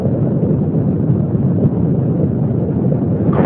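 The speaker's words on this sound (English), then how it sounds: "the main engines beginning to rev up to full throttle" Space Shuttle Columbia's main engines at full throttle during launch, a dense, continuous roar that holds loud and steady throughout, heard from a distance without speech.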